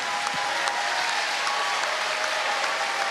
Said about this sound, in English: let's get a round of applause for a York Hall thriller